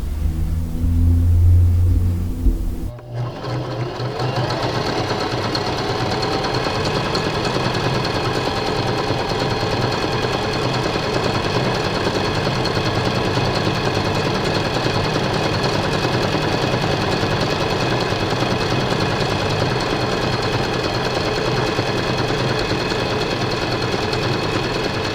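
A mechanical sewing machine stitching, loud and close, with a rapid, even mechanical chatter that starts after a brief pause and runs steadily, with no talking.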